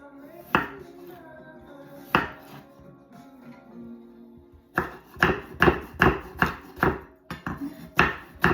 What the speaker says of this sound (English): I hate cutting old potatoes.